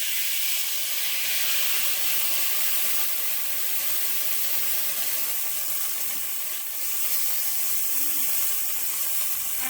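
Wine sauce poured into a hot pan with chicken over medium heat sets off a loud, steady sizzling hiss that holds evenly throughout, with no talking.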